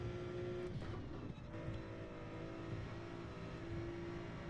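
A Nissan GT-R race car engine in Gran Turismo 7 drones at steady high revs, with a brief dip and recovery partway through, over game background sound and without talk.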